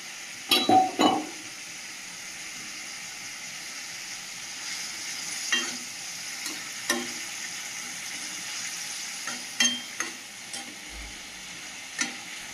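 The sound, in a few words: fried puti fish stirred into simmering curry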